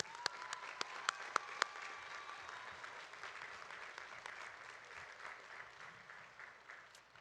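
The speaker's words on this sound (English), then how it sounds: "So let's applaud ourselves for what you're going to do." Faint applause from a law school commencement audience, opening with a few sharp, distinct claps before settling into a soft, even patter of many hands that continues to the end.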